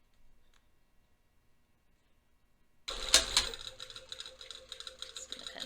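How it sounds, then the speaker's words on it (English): A sewing machine stitches bias tape along a waistband facing, starting abruptly after a quiet stretch with a fast, close, steady mechanical chatter that runs to the end. "I'm just going to sew right along that pin"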